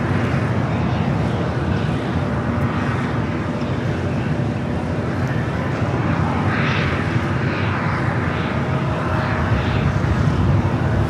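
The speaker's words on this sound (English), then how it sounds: "A CRJ LR heading to Prescott, Arizona, United Express Sky West." A United Express SkyWest CRJ jet departs LAX bound for Prescott, Arizona, its broad, steady engine roar holding loud and close for the whole stretch with no talk over it.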